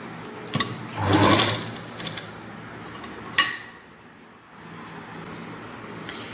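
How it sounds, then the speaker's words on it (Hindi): A sewing machine runs in a short burst as it stitches gathered net frills onto a party dress, with a few quieter mechanical clicks and handling sounds afterward. "फिर हमें इस तरह से सिलाई लगाते हुए फ्रिल्स बनानी है।"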